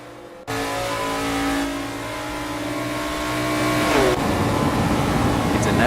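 NASCAR race cars at Daytona's tri-oval in Assetto Corsa roar past flat out in a tight pack. After a brief silent start, the engines drone loud and steady and rise in pitch as they pass close by, with a voice talking over them.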